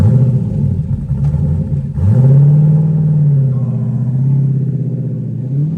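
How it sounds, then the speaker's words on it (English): A car engine runs steadily at the British Motor Museum, a loud continuous low rumble with a brief dip before it swells back and holds a sustained drone. "See, cars aren't going to make this noise in the future."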